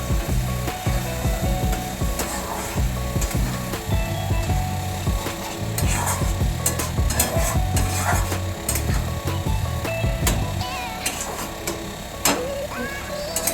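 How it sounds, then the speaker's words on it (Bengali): A spoon stirring water into a spinach mixture in a pot while cooking palak paneer, with repeated scraping and rubbing strokes in an irregular rhythm, close and moderately loud. "তারপরে জলটা ভালো করে মিক্স করে নেবো"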